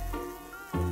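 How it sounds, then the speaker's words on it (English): Flies buzzing around a muddy animal in a cartoon story, a thin whining drone that swells near the start and again louder at the end of the brief moment. "The flies."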